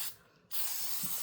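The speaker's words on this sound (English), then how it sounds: "See how it sprays much better" A short hiss of a spray bottle, then a longer sustained spray burst, close and sharp.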